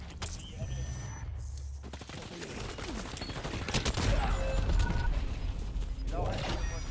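Gunfire in a Warzone battle royale game: bursts of rapid shots and mechanical clicks over dense, loud battle noise, with voices talking over it.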